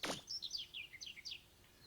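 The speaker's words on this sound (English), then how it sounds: "And we got some birds here. So we got a little dove." Birds in a Mega Man Legends fan remake built in Unity give a soft run of high, quick chirps and tweets after a brief rustling burst, faint and alone with no talking.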